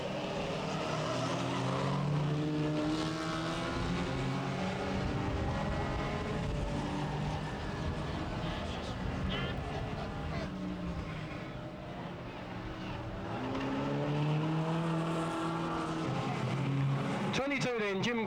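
Race cars roar around the circuit at Bovingdon Raceway, a continuous loud engine drone with shifting pitch as cars pass, under steady announcer commentary.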